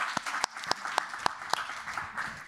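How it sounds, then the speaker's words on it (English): Audience applause at a political talk on European affairs, a moderate scattering of claps with a few sharper individual hits standing out, fairly quiet and somewhat distant. "A big applause, please"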